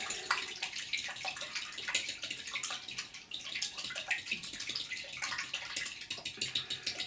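A fork whisks liquid bait mix in a container, giving a continuous fast wet clatter and swish at a fairly soft level throughout, with no talking.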